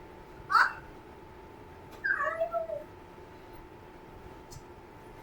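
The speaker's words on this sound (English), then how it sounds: "that sure is a crow calling" Two crow calls sound at a moderate distance: a short one, then a longer, broken series a moment later. Both stand alone over a steady low hum, with quiet in between.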